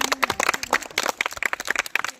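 Audience clapping at a Marathi school gathering, a dense run of close, sharp handclaps from several people, irregular and lively throughout, with no talk over it.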